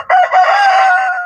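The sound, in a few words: chickens, rooster crowing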